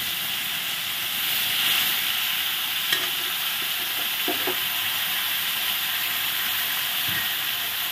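Chili and tomato paste frying in a pan, giving a steady loud sizzle and hiss throughout, with a few soft stirring scrapes and clinks.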